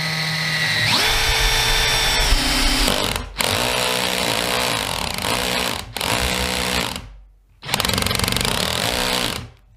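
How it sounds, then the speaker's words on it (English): A cordless power drill on a clutch and torque setting whirs loudly in three or four sustained bursts, driving in with a whining motor and rapid ratcheting, with short pauses between runs and no voices. "Now try watching the end of the actual drill."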